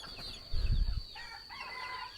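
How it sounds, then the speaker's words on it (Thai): Domestic village chickens in a backyard pen, with a short, low clucking burst and brief fowl calls heard faintly at a distance, alongside a steady high insect-like whine and no talking. "ตัวนี้ก็จะเป็นพวกไก่บ้านคือกัน"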